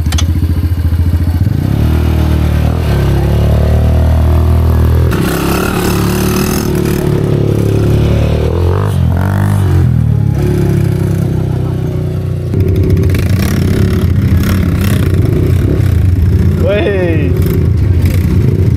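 An ATV engine revs hard and loud up close during a gear change on a trail ride at Kampung Gelok, Lenggong, rumbling and clattering throughout while riders shout over it.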